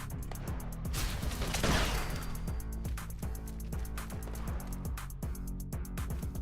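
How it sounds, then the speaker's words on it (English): Gunfire in the video game Fallout 76: a rapid, steady run of shots over a constant low drone, with a louder burst near the start, no talk. "hearing gunfire."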